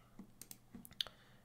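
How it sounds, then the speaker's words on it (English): A computer mouse clicking while opening a video file in Blender, several light, sharp clicks spaced irregularly over a quiet background, faint and close. "Let's click on open and select whatever video you want to add."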